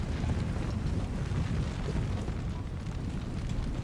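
Massed musket and cannon fire from the Napoleon: Total War strategy game rumbles as a dense, continuous low roar of distant volleys, loud and unbroken, with no voices.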